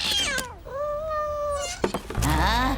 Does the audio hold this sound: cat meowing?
yes